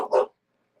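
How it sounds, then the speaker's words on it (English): A dog gives a single short bark, close and fairly loud, then silence. "What are you barking at?"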